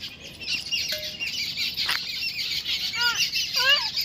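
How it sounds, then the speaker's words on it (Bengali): An aggressive rooster flaps and flies at people outdoors, making a brief burst of wing beats against steady background noise, followed by short chirping bird calls near the end. "খুব পাজি, খালি তেড়ে চলে আসে এই মোরগটা উড়ে"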